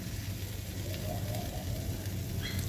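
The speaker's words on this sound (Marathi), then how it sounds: "आता याच्यावर आपण तेल घालून घ्यायचं आहे वरती, असं छान वरती धपाट्याच्या." Oil sizzles steadily around a kothimbir thalipeeth in a hot pan, a soft, even crackle that runs the whole time with no voices.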